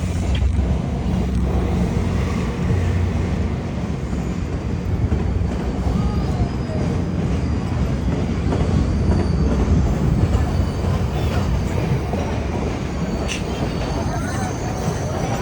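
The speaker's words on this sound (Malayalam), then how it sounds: "അതാണ് കാനഡ ട്രെയിന്." A train runs along a railway track in Canada, its wagons rumbling steadily and loud throughout with faint wheel squeal, continuous and close.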